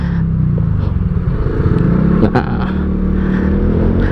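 A Honda Vario 160 ABS scooter engine revving up loud and close, a steady buzzing drone with a sharp clatter partway through.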